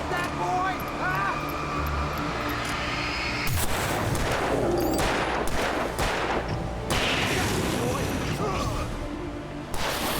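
Gunfire in the video game Alan Wake Remastered: dense, continuous shooting with sharp bursts and heavy booming impacts, loud and close, running under a talking voice throughout.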